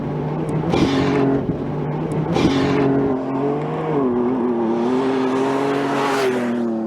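A truck with bigger turbos drives by, its engine droning with rising and falling pitch as it passes, fairly close and loud, with no talk over it.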